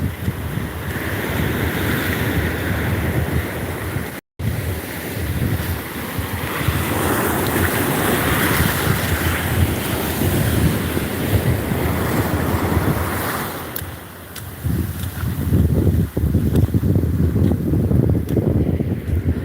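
Steady ocean surf washing ashore at a beach, with a constant rush of waves and strong wind buffeting the microphone, loud and close, no talking.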